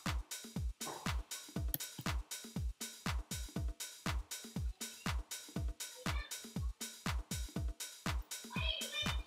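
A programmed kick drum loop with slight velocity variation thumps out a steady four-on-the-floor pulse, each hit punchy and deep with a quick decay, heard alone and fairly quiet.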